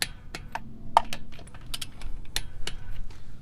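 Sharp, scattered clicks from a torque wrench tightening bolts in a crisscross pattern, each snap crisp and close, repeating irregularly over a low background hum.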